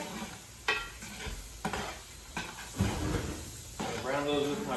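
Venison steaks browning in a hot pan, with steady sizzling and frying hiss that runs throughout, broken by several scraping stir strokes and clattering knocks, while a voice talks intermittently over the cooking.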